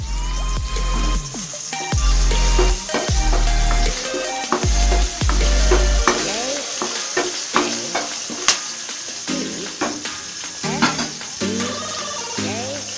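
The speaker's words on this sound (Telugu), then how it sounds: "బాండీలో కాసింత ఆయిల్ వేసి కరివేపాకు రెబ్బల్ని వేయించి" Curry leaf sprigs fry in a little oil in a pan while cooking brinjal, a close sizzle with a spatula scraping and clinking, plus faint background tones and some brief voices.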